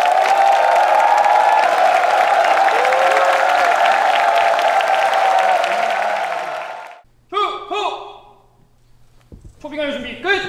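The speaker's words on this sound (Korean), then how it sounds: "삼중스님 입장하고 계십니다. 큰 박수를 내주세요." Crowd at a lecture hall applauding and cheering as an 84-year-old Buddhist monk enters, a broad sustained wash of clapping that stops abruptly, followed by a few spoken words.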